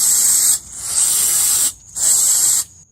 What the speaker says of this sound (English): you're going to want to turn it to the other side and spray them from the back.